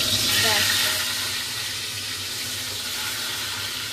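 Pot of egg biryani cooking, giving a steady hiss and sizzle with a faint bubbling undertone, close and even throughout, with a brief louder swell early on.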